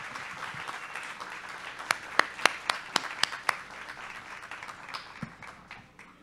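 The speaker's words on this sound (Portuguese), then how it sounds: "Por favor, palmas para a Bianca." Audience applause at a book fair talk welcoming a columnist, a scattered patter of claps with a few sharper close hand strikes, moderate and fading after a few seconds.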